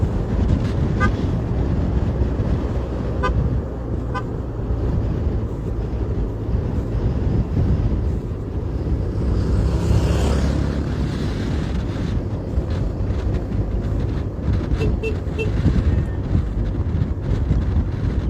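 Heavy headwind battering the microphone at a tropical road cycling race, a continuous loud low rumble and buffeting roar that swells around the middle and never lets up.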